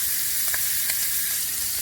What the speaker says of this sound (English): I added the shrimp to the frying pan, so we're going to let it cook on both sides.